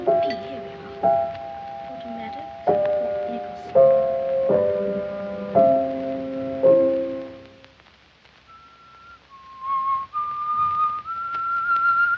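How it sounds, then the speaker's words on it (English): A person whistles a tune in clear, sustained notes, first over sparse piano-like chords, then alone with a rising, wavering phrase, close and moderately loud. "What's that you're whistling?"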